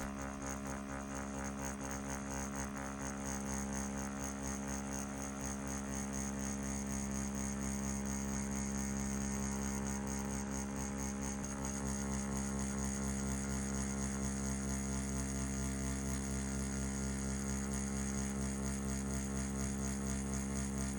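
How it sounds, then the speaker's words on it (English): A Solong wireless tattoo pen machine set to a 3.9mm stroke runs at 6 volts, giving a steady, close, continuous buzzing hum that stays even throughout with no talking. "we're gonna run the machine still at 6 volts"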